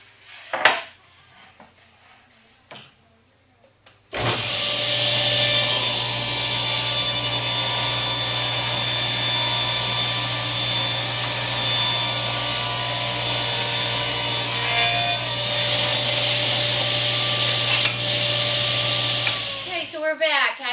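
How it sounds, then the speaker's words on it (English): A table saw cuts wooden boards for a 4x4 post: after a few quiet seconds with faint shop noise, the saw spins up to a loud, steady, close whine that runs for about fifteen seconds before winding down. "If this table saw gets too noisy, I'll just edit it out."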